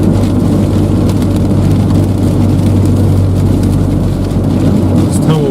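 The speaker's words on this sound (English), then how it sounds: "These tumbleweeds are flying across the road at 50 miles an hour, slamming into the car" Tumbleweeds blown by Kansas derecho winds pelt a storm chase car amid a constant roar of wind and road noise, with scattered thumps of debris against the body.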